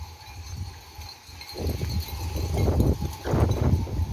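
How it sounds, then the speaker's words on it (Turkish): Hooves clatter irregularly as a flock of sheep shuffles past a village garden on the way to graze, a dense patter of steps rising and falling over low outdoor rumble. "Komşumuzun koyunları."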